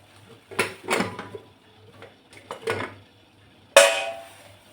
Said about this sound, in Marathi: इकडे कढईमध्ये तेल टाकून घेऊ आपण.